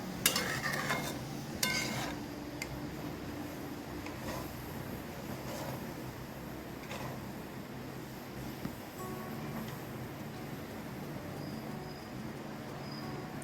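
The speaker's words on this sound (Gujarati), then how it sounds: "બધું મિક્સ કરીને એને એકદમ સરસથી હલાવીને ઉકળવા દેવાનું છે" A spoon stirring sweet vermicelli mixture with milk in a pot as it heats, giving faint scraping and clinking strokes against the metal over a low simmering hiss, quiet and close, with no one talking.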